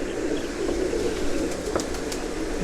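Pigeons in a loft in Islamabad coo softly amid a low background hum, with scattered wing flutters and faint clicks, no voices.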